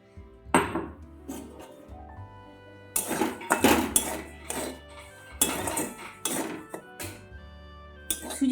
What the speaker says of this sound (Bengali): এই সময় আমি সুজিটা একটু নেড়ে চেড়ে একটু ভেজে নেব।